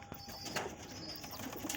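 Kalchira Madras pigeon, a high flyer breed, making soft low cooing alone at close range, with faint background rustle and scattered chirps from other birds.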